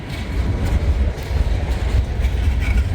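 A Norfolk Southern freight train rolls steadily past nearby, a continuous heavy low rumble with faint rhythmic wheel clatter and no talk.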